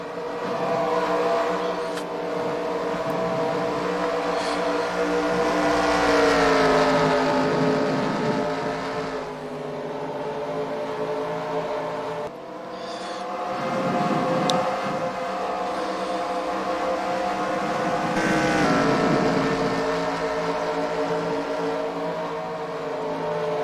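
Stock cars of the eNASCAR Slide Job Series racing at Richmond in a video game, a pack of engines droning and swelling in loud passes, the roar dipping and rising twice as the cars sweep through turns.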